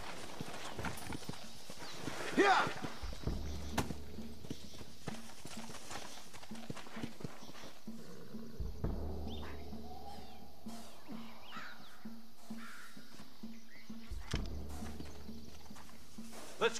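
Horses gallop in the Red Dead Redemption video game, their hooves beating a steady clip-clop rhythm at close range throughout. A voice shouts once, and crow caws are heard in the background.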